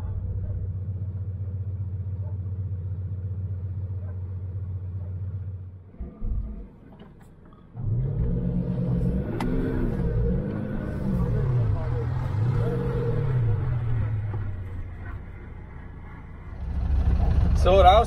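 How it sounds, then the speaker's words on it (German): A big heavy truck weighing several tonnes, stuck among sand dunes, with its engine rumbling low and steady, then revving in repeated rising surges after a brief pause, loud and close throughout. "Das ist ein mega LKW."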